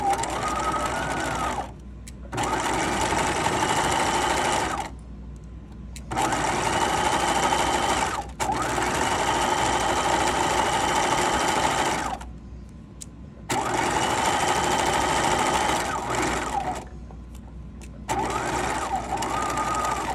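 Sewing machine backstitching a fabric wristlet keychain at 2.5 stitch length, a fast mechanical whirring in several loud runs of two to four seconds, each stopping briefly before the next begins.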